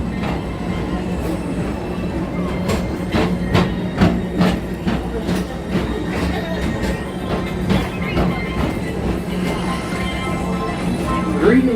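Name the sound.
TTA PeopleMover ride vehicle running on track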